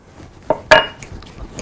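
A utensil scrapes and clinks against a bowl while softened butter is mixed with Italian seasoning into herb butter for a grilled prime rib roast, giving two sharp close knocks and then lighter taps, with no voice.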